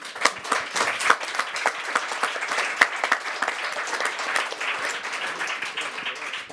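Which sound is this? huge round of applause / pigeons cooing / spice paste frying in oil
huge round of applause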